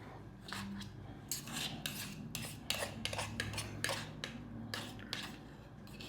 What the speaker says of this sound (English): Kind of stir it real good